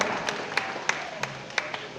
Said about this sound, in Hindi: आप सब जोरदार तालियां बजाएं